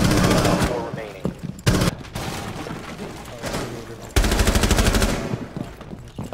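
Automatic gunfire in the Rainbow Six Siege video game, loud rapid bursts in two main stretches separated by shorter shots and gaps, with a player's voice talking over the action.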